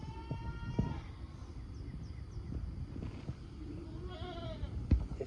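Goats in a farm pen bleat several times in short wavering calls, some close and some farther off, over a quiet morning background with faint wind.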